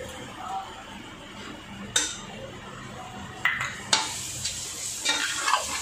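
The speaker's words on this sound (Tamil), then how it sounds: "நல்லா கிண்டி விட்டுக்குவோம்." A spoon scrapes and clinks against a pot as masala for country chicken biryani is stirred, with a soft sizzle underneath and several sharp metallic knocks at irregular intervals.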